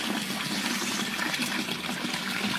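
Rusty brown water runs from a tap in a prison cell, a loud steady gushing splash that continues without break, with no talk over it.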